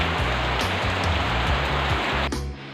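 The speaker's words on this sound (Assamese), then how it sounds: "প্ৰায় 2 ঘণ্টামান বৰষুণ আহিয়ে আছে" Heavy monsoon rain pours steadily and loudly outside a house during the rainy season, a dense continuous hiss that softens slightly near the end.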